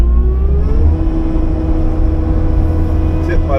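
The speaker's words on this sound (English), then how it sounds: "rev my engine up" A machine engine revs up to drive a hydraulic trencher attachment, a loud steady drone with a rising whine, heard close by.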